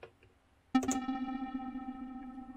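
A synthesizer note played through the reverb board of a Gotharman's Little deFormer 3 DIY synth starts sharply after a brief quiet pause, then sustains as a steady, bright, reverberant tone with a long, slowly fading tail.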